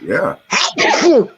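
A single sharp human sneeze bursts out close and loud in the middle of casual male conversation, with speech just before it.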